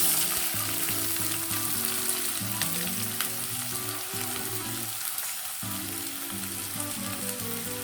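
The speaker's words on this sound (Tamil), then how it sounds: "கொஞ்சம் போல் சின்ன வெங்காயம் இதை போட்டு வறுத்துக்கலாம்." Small shallots frying in oil in a pan for crab masala, a loud, dense, continuous sizzle close up that holds steady throughout, with no voices over it.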